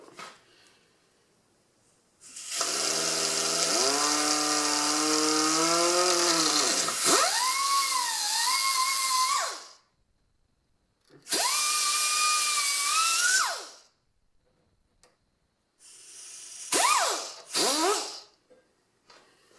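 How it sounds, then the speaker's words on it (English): A cutoff wheel slicing through a Duramax power steering line gives a high, whining grind in several separate bursts: a long one, a shorter one, then a few quick ones. The pitch sags and recovers as the wheel bites into the line. "Best way I found is just a cutoff wheel. So, here we go."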